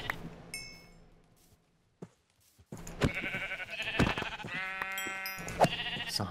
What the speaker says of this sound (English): I'm fighting sheep, so it's all good.